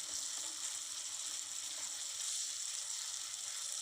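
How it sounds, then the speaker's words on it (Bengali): Soybean paste fries in hot oil while being stirred, giving a steady, soft hissing sizzle close by with faint scraping underneath and no talking. "এখন আমি একটু নাড়াচাড়া দিয়ে নেব"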